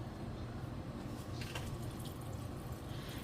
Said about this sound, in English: now we're going to add a can of chicken broth